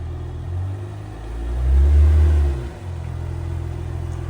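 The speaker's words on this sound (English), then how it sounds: "there's my guy right now pulling up in the Ram to buy this thing from me" A Ram pickup truck pulls up nearby, its engine giving a low rumbling drone that swells to a brief rev mid-way before settling back to a steady idle.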